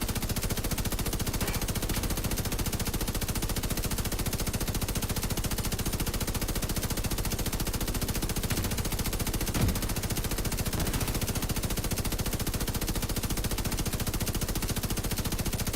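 A thousand-round machine gun called the Bullet King fires nonstop in The Division 2 with no reload. The rapid, relentless automatic rattle stays loud and unbroken throughout.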